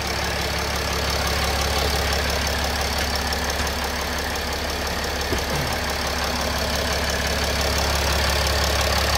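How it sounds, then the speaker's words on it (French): A Mercedes OM 642 diesel engine in an R-Class or ML idles while warming up, a steady, continuous low rumble with an even hum that never changes pace and no voices over it. "on va laisser chauffer le moteur"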